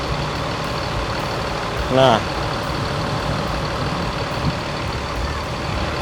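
A freshly washed bus drives into a muddy site after rain, its engine rumbling steadily with a brief beeping burst, and a person speaks over it.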